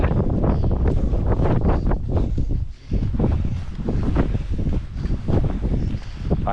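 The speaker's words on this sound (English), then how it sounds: "Player's not liking the new cold wind." Strong cold wind buffets the microphone in a steady, loud roar while hiking along Hadrian's Wall toward Sycamore Gap, with one brief lull partway through.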